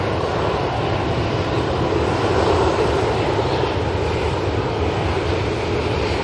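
Ryanair airliner passing overhead near Manchester airport: a steady, loud broadband jet roar with little change, no voices.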